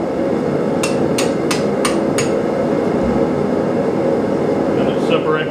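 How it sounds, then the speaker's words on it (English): A blacksmith taps a hammer on hot steel over a hot cut, five sharp evenly spaced metallic strikes near the start, over a steady loud roar of forge or shop noise. "I usually tap it with a hammer to get it all the way down, and then rock it back and forth on the hot cut."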